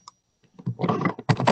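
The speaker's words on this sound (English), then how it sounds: "Brett, your keyboard is going nuts" Computer keyboard typing on an open webinar microphone, a quick burst of dense clicking keystrokes that starts sparse and then clatters steadily, fairly close and loud with no one speaking.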